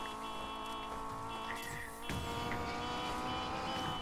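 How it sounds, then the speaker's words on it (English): Car engine roaring with a high tire squeal as it drifts in the Need for Speed racing game, steady and loud throughout, with a brief dip in the middle before the engine surges again. "look at that drift."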